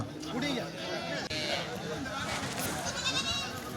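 Goats bleat amid a busy morning livestock market at Elippara in Kerala, their wavering cries rising repeatedly over a steady crowd murmur and nearby chatter.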